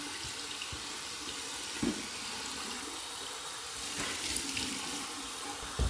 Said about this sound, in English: Now I'm going to do my cold water rinse.